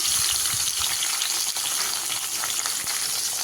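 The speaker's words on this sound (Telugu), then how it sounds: "ఆయిల్ వేడైపోయింది మిరపకాయలు వేసుకోవాలి ఇప్పుడు మిరపకాయలు వేయిపోయాయండి టమోటా వేసుకోవాలి" Tomatoes and green chillies frying in hot oil for a ridge gourd chutney, a steady dense sizzle with faint crackles and occasional stirring taps, close and continuous throughout with no talking.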